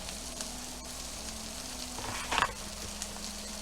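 Snow peas sizzle steadily in hot oil in a pan for a coconut curry shrimp dish, a constant close frying hiss with a brief louder crackle and stir partway through.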